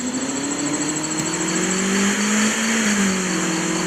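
A car engine in the driving game Taxi Sim 2022 revs steadily, its pitch climbing and dipping as it accelerates along a short straight, heard alone and fairly soft.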